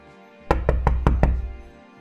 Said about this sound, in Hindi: दरवाजे पे आवाज तेज हो जाती है।